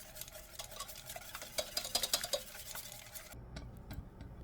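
A whisk clicks and scrapes quickly against a bowl, beating egg yolks into a cooled custard mixture for cinnamon Portuguese tarts. The strokes are rapid and fairly quiet, with no voices.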